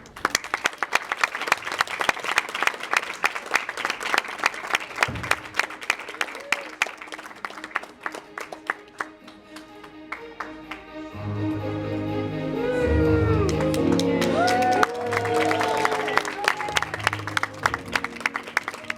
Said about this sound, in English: a great round of applause for Haleigh